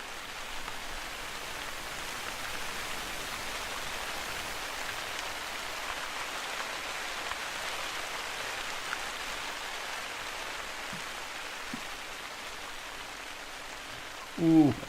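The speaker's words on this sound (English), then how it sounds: "Boy, that rain is loud." Steady loud rain drumming on a surface inside the hunting game TheHunter: Call of the Wild, a continuous hiss filling the whole stretch, with a brief louder bump near the end.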